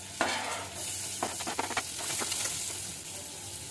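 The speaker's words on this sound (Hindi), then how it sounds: "जीरा भुन गया, प्याज और हरी मिर्चें" Onions and green chillies fry with cumin for paneer bhurji, a steady hiss of sizzling oil broken by clusters of scraping stirs from a spoon against the pan, with no voices.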